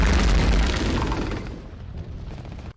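A bomb goes off in Return to Castle Wolfenstein after a botched defusal attempt, a loud, deep booming blast that rolls on and slowly fades over a few seconds.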